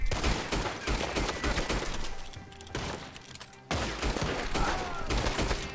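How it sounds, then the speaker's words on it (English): Gunfire in the online Western shooter game Red Dead Online: dense bursts of shots crackle loud and close, pausing briefly before resuming, with faint voices underneath. "that guy popped 10 bullets and we're still getting up"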